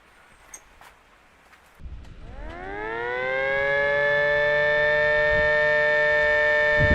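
A mini SD-10 siren powered by a 5 volt adapter and tested outdoors spins up from quiet background noise into a rising low-pitched wail that settles into a steady, sustained tone, moderately loud and close.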